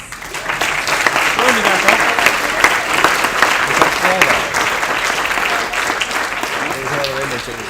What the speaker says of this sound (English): can we give them a round of applause then?